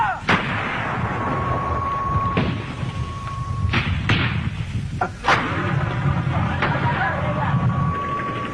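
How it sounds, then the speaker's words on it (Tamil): Artillery fire in a military assault, repeated heavy booming blasts with sharp cracks at irregular intervals, loud and close over continuous rumbling battle noise. "கர்னல் கிட்டு பீரங்கி படப்பிரிவுடன் சூட்டு ஆதரவுடன் ஒரு புதிய ஒரு சந்திரபாய வியூகத்துடன் அந்த தாக்குதலை ஆரம்பித்து"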